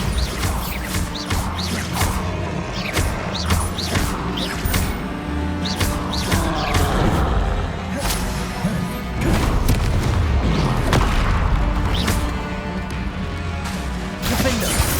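Confringo and Bombarda spells explode again and again during Hogwarts Legacy combat, a dense barrage of booms, whooshes and crashes running nonstop at high volume over a busy game soundtrack.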